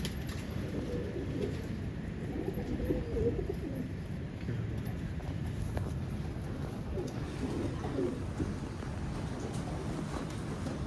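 Pigeons coo softly in a loft, a low murmuring coo under steady wind and background rumble, faint and continuous with no clear talking.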